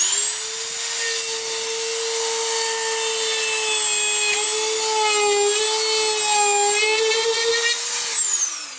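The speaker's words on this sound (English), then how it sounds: "Trusty Dremel. Okay. All I'm going to do is I'm drilling a hole in there to put the LED in." A Dremel rotary tool whines at high speed while drilling a hole for an LED in a wearable steampunk machine build, a loud steady tonal scream that dips slightly in pitch under load and winds down at the end.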